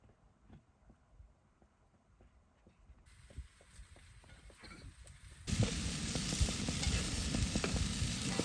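Sausage and peppers frying in a pan outdoors, with a soft sizzle and stirring at first that swells into a loud, steady close sizzle over the last few seconds, with no voices.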